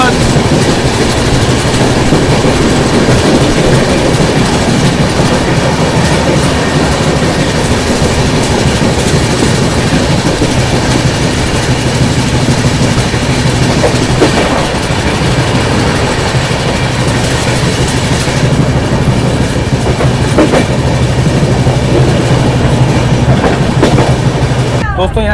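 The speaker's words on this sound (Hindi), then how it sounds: "नई दिल्ली से निकलने के बाद ट्रेन तो काफ़ी अच्छी खासी रफ्तार में चल रही है" A New Jalpaiguri–New Delhi express train runs at high speed, heard from on board as a loud continuous rumble with rhythmic clickety-clack of wheels over rail joints and occasional squeals, steady throughout.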